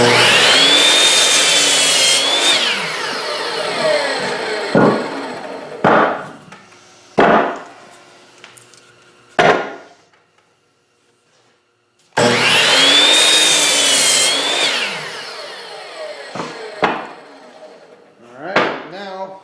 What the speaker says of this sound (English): I've got a little scale on my miter box here. We're going to cut 2 at 10 inches.